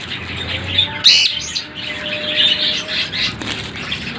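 Pet birds chirp and tweet close by while wings flap in short bursts, with one loud flutter near the start, around a soft-food feeding mixed for the birds.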